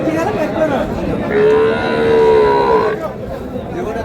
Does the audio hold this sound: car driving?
no